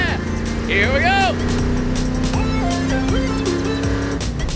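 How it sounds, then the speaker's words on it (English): A real race car drives with a sustained engine drone and a rising whine of tires, loud and close, with voices and shouting over it. "I can't believe I'm driving a real race car."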